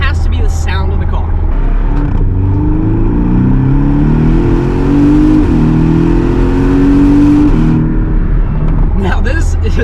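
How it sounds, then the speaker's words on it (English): A Porsche 718 Cayman S engine revs up through several climbing pulls with brief dips at the gear shifts, a loud nearby rumble with no talking over it. "number 3 on the list has to be the sound of the car"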